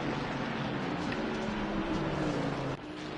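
A Bentley Continental GT3 race car's engine in Assetto Corsa Competizione at Zolder circuit, a continuous loud roaring drone with a steady low tone that drops slightly near the end.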